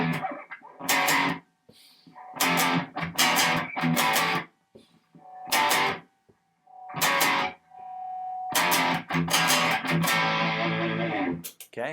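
Distorted electric guitar power chords play a song at a slower tempo, in loud strummed bursts separated by short pauses, with no talking.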